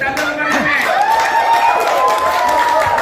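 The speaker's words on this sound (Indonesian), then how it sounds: "Tepuk tangan Mariana." Audience clapping and cheering at a traditional dance discussion event, a lively mix of hand claps and excited voices, with children's shouts and tonal calls rising over the noise, close and fairly loud.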